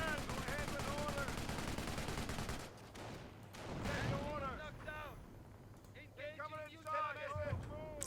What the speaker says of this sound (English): they've got a medium machine gun now defending that building